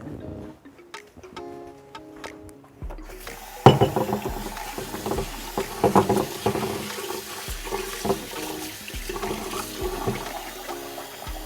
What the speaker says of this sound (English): you need to wash this as many times as possible. You need to take the starch away.